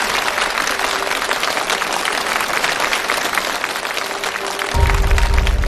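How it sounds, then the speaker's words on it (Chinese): Studio audience at an acrobatics challenge show claps for a husband-and-wife pair, a dense, sustained wash of applause at full volume with a low rumble swelling near the end. "来，我们掌声送给两位。"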